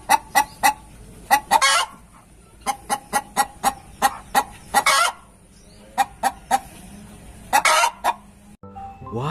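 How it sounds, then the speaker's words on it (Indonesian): A video-game chicken in Jurassic World Evolution 2 clucks in quick repeated bursts, bright and close, with short pauses between clusters and a few louder squawks, no voices present. "Ini ada hewan ayam."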